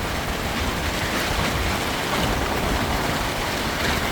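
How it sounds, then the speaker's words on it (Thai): Steady rain falls on a farm field hut in Thailand, a dense, even hiss of drops on the roof and ground that continues unbroken and fairly loud throughout, with no voices. "ฝนตกแล้ว"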